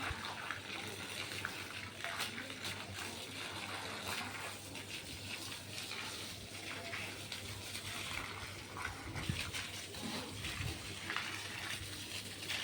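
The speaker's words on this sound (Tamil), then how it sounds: "போர் போட்டு தண்ணி அடிச்சிட்ருக்குறாரு. போர் தண்ணி பாருங்கள்." Continuous loud rushing and splashing of water pouring out steadily from a borewell pump, with no talking.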